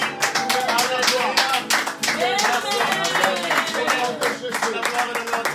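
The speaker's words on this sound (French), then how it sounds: "Acclamons le Seigneur Jésus, ce qu'il a fait dans nos vies." A church congregation claps steadily in rhythm during worship and praise, the claps dense and continuous under singing and a voice, filling the whole stretch at even loudness.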